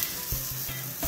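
Close, steady hiss of asparagus cooking in shallot oil on a barbecue grill, a brief continuous sizzle with a faint scrape partway through.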